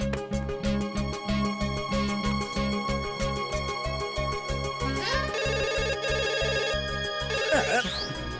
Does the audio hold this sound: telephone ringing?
yes